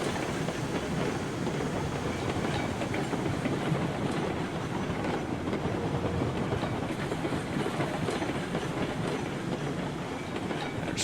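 A Climax steam locomotive runs steadily in the Railroad Online video game, giving a continuous rumbling, hissing roll with a faint clickety-clack of wheels. It is loud and constant, with no voices.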